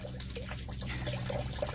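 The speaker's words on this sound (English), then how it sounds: "That's all subsurface water right there." Subsurface water drains out of a newly installed French drain in a yard, making a quiet, steady trickling flow with faint splashing, low and continuous against background hum.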